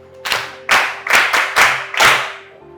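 Five or six sharp hand claps in quick, uneven succession, close and loud, with a faint hum beneath.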